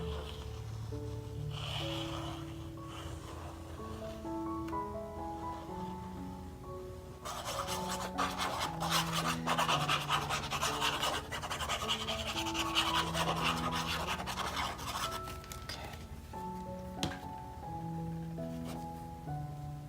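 Steady rasping rubbing on a spot of a Graphic45 Kaleidoscope paper craft folio, continuous close scraping strokes under soft background music with no talking.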